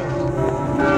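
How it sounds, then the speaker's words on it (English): Church bells ring in Venice, a loud, sustained metallic tone with lingering overtones over a brief moment, without speech. "These are the bells."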